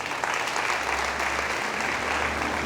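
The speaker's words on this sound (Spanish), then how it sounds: "Dale fuerte el aplauso a él." Loud applause fills a church congregation, a dense, steady wash of clapping from many hands that holds at an even level for a couple of seconds with no pause.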